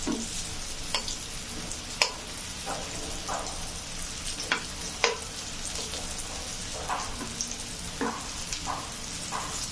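Food frying in a pan, a continuous soft sizzle broken by scattered sharp scrapes and clinks of a spatula stirring, close and steady, with no voices.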